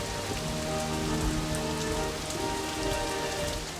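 Heavy rain falling in the Amazon rainforest, a dense, close, continuous patter of drops striking surfaces, steady throughout with no voices.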